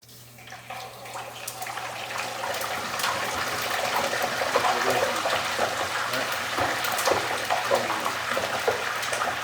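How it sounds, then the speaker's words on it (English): Cornish hen dropped into hot frying oil, its moisture setting off a loud, steady hiss and crackling bubbling that builds within the first second and carries on without a break, close up. "once you drop it in, all this water is going to make it bubble, right?"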